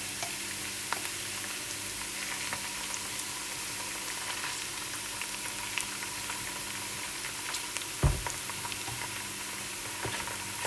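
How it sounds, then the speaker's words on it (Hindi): Ginger garlic paste frying in a pan for kadhi pakora, giving a steady, quiet sizzle throughout with a single brief clatter partway through. "तकरीबन 3-4 मिनट इसको आपने अच्छी तरीके से भून लेना है"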